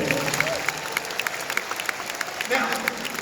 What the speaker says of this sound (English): How about a nice round of applause for our field squires here today?